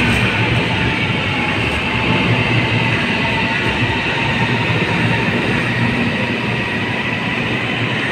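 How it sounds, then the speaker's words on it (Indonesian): Steady, loud rumble of an arriving light rail train in Kuala Lumpur with continuous wheel and track noise, constant throughout with no pauses. "Dan untuk LRT-nya tiba teman-teman"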